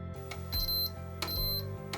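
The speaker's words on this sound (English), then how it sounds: "I took my multimeter out and set it to beep mode, so it beeps upon connection" A multimeter in continuity mode beeping as it tests the wire pairs of a power-button connector on an Athlon 64 computer: two sharp, clear electronic beeps about a second apart, close and loud over a faint hum.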